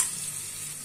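Onions sautéing in a pan with salt just added, a steady bright hiss of frying that stays close and even for a brief moment, with no talking over it.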